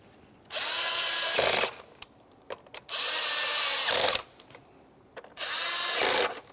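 A power tool drives the cover mounting bolts on a 2001–2005 Ford Sport Trac XLT idler pulley in three loud, steady whirring runs of about a second each, separated by short pauses with small clicks and handling noises.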